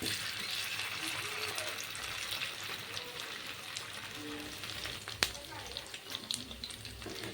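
Slices of ash gourd frying in oil on a low flame give a steady, close, even sizzle with fine crackle, and a single sharp click or tap near the end from a utensil against the pan.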